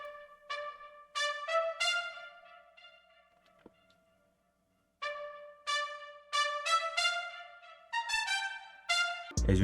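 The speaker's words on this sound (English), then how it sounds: "The next sound I use is this trumpet from CRX Brass" A trumpet preset from the CRX Brass plugin plays a clean, bright melodic phrase of short and sustained notes, solo, with a brief gap midway.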